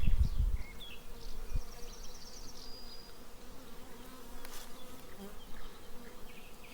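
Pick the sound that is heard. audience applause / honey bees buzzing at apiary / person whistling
honey bees buzzing at apiary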